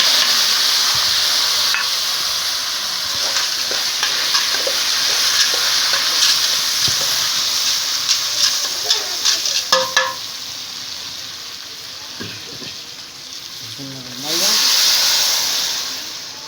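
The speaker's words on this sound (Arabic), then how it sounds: "شايفين المكرونه وجمال المكرونه اهي اتحمرت المكرونه" Thin bent pasta frying in a home kitchen pan, a steady broadband sizzle with scraping stirs and clacks of a utensil, brief voices and a louder hiss burst near the end.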